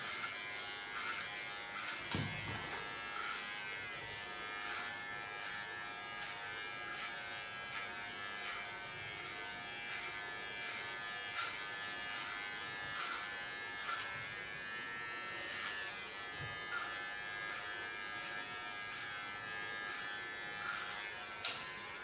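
An electric hair clipper hums steadily while cutting hair, set up with a clipper comb, and gives repeated short buzzing strokes at a regular pace, close and fairly loud, with no talking.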